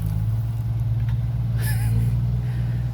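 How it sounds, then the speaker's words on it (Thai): Iseki farm tractor engine running close by, a steady low chugging throb with a rhythmic pulse, and a brief higher squeak partway through. "นี่ครับ รถไถอิสกิไว้ทำทาง"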